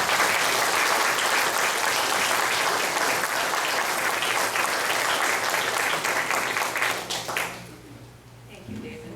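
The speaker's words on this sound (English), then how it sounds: "give yourself a round of applause" Warm, sustained applause from a graduation ceremony audience at the Randolph Campus, dense and steady clapping filling the room for several seconds before tapering off and fading into near quiet.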